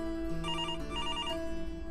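A telephone rings in a domestic scene, repeated trilling bursts of electronic tone at close range, steady and clear with no voices over it.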